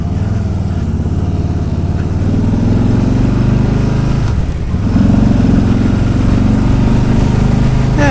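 A 2018 Harley-Davidson Street Bob motorcycle engine runs steadily and loud throughout on a test ride, a low droning rumble with a brief dip midway before it picks back up.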